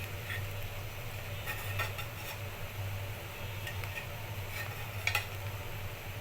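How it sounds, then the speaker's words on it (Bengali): Garlic paste going into onions frying to light brown in a pan gives a soft, steady sizzle with a few stirring clicks and scrapes over a low fan-like hum; no one speaks. "এই পর্যায়ে আমি দিয়ে দিব রসুন বাটাটা"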